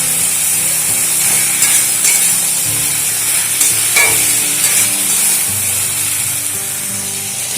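Bottle gourd stir-fried in a pan with salt and turmeric gives a loud, continuous sizzle, with scraping and stirring knocks from the spatula breaking through now and then.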